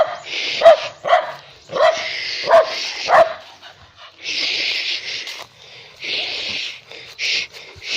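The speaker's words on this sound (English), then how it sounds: "Don't bark again." A small dog barks in a series of sharp, close yips and woofs, five quick barks in the first few seconds, with faint whimpering and soft background noise between them.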